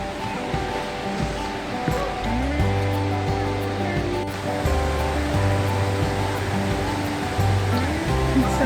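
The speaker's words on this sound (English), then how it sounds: "I'm not missing this waterfall for anything." High Shoals Falls in South Mountains State Park, North Carolina, gives a steady, close rushing roar of falling water, with sustained musical tones layered over it throughout.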